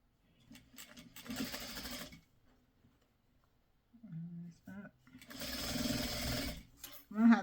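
Two bursts of a sewing machine running fast while quilting, a rapid mechanical whirring, separated by a pause with someone speaking softly.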